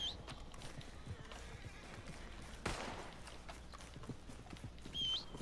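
Horse hooves clip-clop steadily in Red Dead Redemption 2, with a brief whinny near the end and a sharp burst partway through, amid game ambience.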